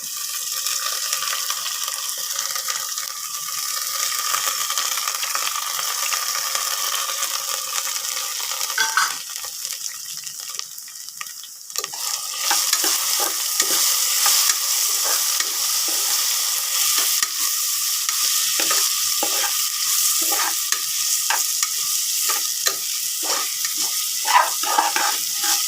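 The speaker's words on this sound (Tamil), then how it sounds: "இதை ஏற்கனவே வறுத்து வச்ச பாசிப்பருப்பு இப்போ லேசாக வதக்கிக்கலாம்" Pre-roasted moong dal is sautéed in a pan for ven pongal, a close steady sizzle broken by repeated scraping stirs, louder and busier in the second half, with no voices.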